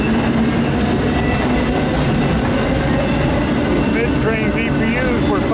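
A freight train rumbles loudly at close range as it powers up toward full speed, a heavy continuous roar with rattling cars and brief wheel squeals near the end, with talking over it.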